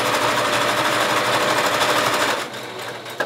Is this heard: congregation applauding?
no